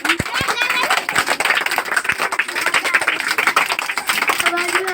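Dense, rapid clapping from many hands in a classroom lesson fills the clip, a steady crackling patter with a few louder sharp claps, no voices standing out.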